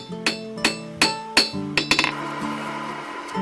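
A hammer striking a forged Finnish puukko blade and tang to straighten it, four loud ringing metallic blows at an even pace, then a quick cluster of lighter clinking taps, close and clear.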